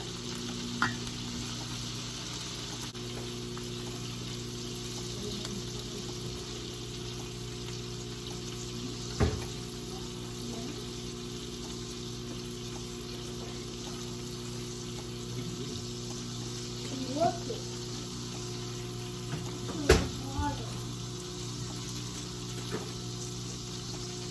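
In a pan, a spicy shrimp dish cooks with a soft, steady sizzle under a constant low kitchen hum. A few brief clinks and stirring knocks rise now and then, and no one speaks.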